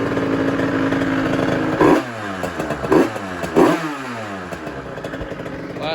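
A 70cc Masai motorcycle engine revs hard in three sharp bursts, each rise in pitch followed by a falling, sputtering note, close and loud.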